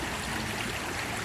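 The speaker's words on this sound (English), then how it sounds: "we did have a decent amount of rain, which makes this water move a lot more" Swollen river water after rain rushes steadily and loudly at close range in the Smoky Mountains, a continuous broadband wash with no breaks and no voices.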